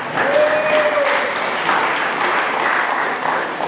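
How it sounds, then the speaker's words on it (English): Audience at a tech presentation evening applauding the last speaker, a loud, sustained crowd clapping from start to finish. "Can I get a round of applause?"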